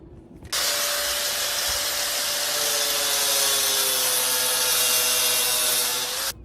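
An angle grinder cuts through a welded-on lock on a Honda 2200 generator. It starts abruptly and holds a loud, steady whine with a gritty rasp for about six seconds, then stops.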